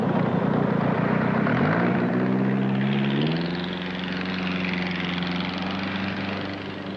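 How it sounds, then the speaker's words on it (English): An early-1950s jet boat runs on a farm dam at Irishman's Creek with a loud engine roar. Its pitch climbs in steps over the first few seconds, then settles into a steady drone that fades a little at the end. "first experimented with the jet boat on his dam at Irishman's Creek"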